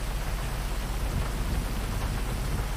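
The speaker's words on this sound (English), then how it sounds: "Oh shit, it's raining." Steady rain with a low storm rumble in a FiveM roleplay game world, continuous and even hiss without breaks, no voices.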